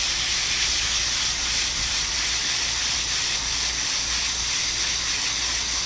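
A garden hose nozzle sprays water across an HVAC coil, making a steady, dense hiss that stays close and even throughout, with no pauses.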